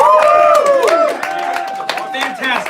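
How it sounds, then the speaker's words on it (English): An audience at a comedy show bursts into applause, with dense clapping and some cheering from a crowd mixed with voices throughout the short stretch. "Please give him another round of applause."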